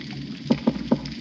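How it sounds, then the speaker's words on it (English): A reef croaker, a fish that hides in caves at the bottom of a coral reef, recorded underwater: three quick, low knocking croaks in a short rhythmic series over soft background noise, with nobody speaking. "Here's one called the reef croaker."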